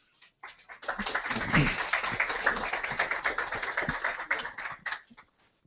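Dense, steady clapping from an audience applauding a group of university students at an interactive webinar, building quickly and holding for several seconds before tapering off, close and fairly loud.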